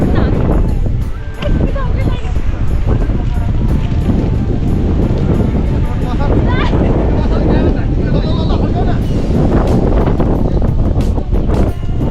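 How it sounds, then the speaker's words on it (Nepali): Strong mountain wind roars continuously across the microphone after an avalanche at Kapuche Lake, a loud, steady, broadband rush with gusty buffeting throughout. "खत्रै हावा चल्यो यो एभलान्स आएपछि"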